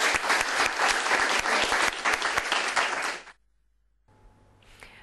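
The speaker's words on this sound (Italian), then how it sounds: "Un applauso." A burst of lively clapping from a small audience rings out for about three seconds, then stops abruptly and gives way to near silence and faint background tone.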